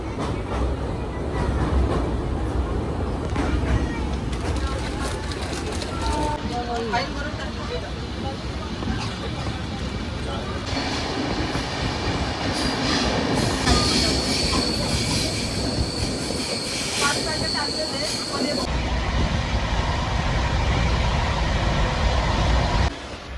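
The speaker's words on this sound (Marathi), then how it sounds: "मेट्रो." A metro train rumbles steadily along the rails, heard from on board, with wheel squeal and clatter and people talking underneath.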